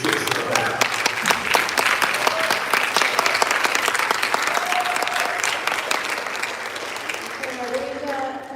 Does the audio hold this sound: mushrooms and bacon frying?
no